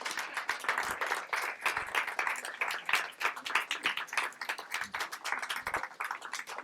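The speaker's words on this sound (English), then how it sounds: "Nice round of applause." An audience applauds at a story slam, producing steady, close, lively clapping that continues at a constant level throughout without any talking.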